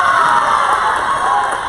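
Home crowd at a girls' high school volleyball match, Elizabeth Forward at Uniontown, roars after a point is won, a loud, sustained wash of cheering and shouting that holds steady without pause.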